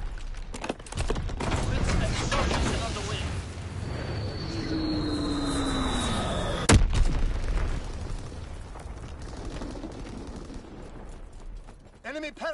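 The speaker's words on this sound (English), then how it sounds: "Incoming enemy artillery. Get to cover." Enemy artillery barrage in Call of Duty WW2 on the Gustav Cannon map: repeated booming impacts and gunfire, with a whistling incoming shell and one sharp loud blast midway, under game voice callouts.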